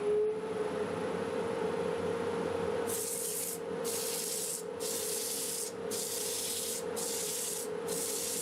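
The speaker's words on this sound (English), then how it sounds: "I'll be sanding in reverse at about 350 RPMs" A large wooden bowl spins in reverse on a lathe at around 350 RPM while being sanded, giving a steady rubbing hiss over a constant motor hum, with the abrasive scratch rising in repeated, evenly spaced passes.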